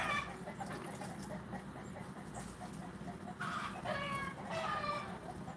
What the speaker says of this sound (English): I love to hear the roosters too, making all of that noise